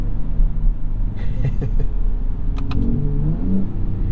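A low, steady engine rumble from the exhaust of a 2021 Ford F-150 Raptor pickup fills the whole stretch, with slight rises in pitch as it revs under driving noise.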